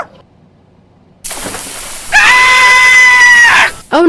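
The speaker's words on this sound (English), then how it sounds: "I heard screaming." A loud, sustained high-pitched scream rises after a burst of commotion, held for over a second and then cut off, with a brief sharp sound at the very end; no talk.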